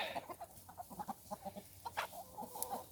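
Pastured chickens clucking as two flocks are merged: a busy cluster of short, overlapping clucks and squawks, close but fairly soft, with one sharper call near the end.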